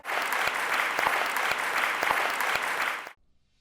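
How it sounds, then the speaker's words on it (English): Applause for a panel at a talk on female founders and funders: a dense, even burst of many hands clapping, sustained for about three seconds before cutting off abruptly into near silence. "And a round of applause"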